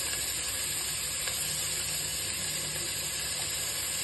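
Onions sizzle and fry in oil in an AMC pot for aavakaya biryani, a steady, close, even hiss with faint stirring and no talk.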